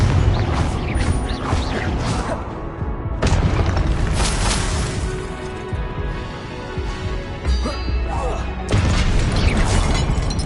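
Confringo blasting spell cast in a Harry Potter video game, heard as loud booming, crashing bursts over dense game sound, with a voice speaking over it.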